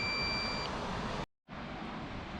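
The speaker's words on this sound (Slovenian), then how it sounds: "Ker živčen ratam, ko začne to piskati." A drone's warning beeps, thin steady electronic tones above a loud rushing wind noise that drops out abruptly for a moment before the windy roar returns.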